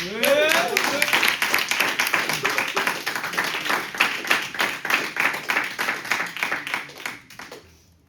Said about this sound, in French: On peut applaudir Esther.